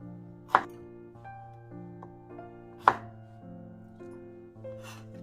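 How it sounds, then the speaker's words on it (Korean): Garlic cloves sliced with a knife on a cutting board: two sharp close chops stand out over quiet background tones, with fainter cuts following. "마늘을 편으로 썰어요."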